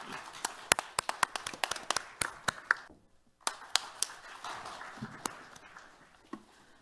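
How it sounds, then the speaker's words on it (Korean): Audience applause at an environmental policy forum in Korea, a scattered mix of sharp hand claps at moderate distance, thinning into a brief lull before resuming with sparser claps. "박수 보내주시죠"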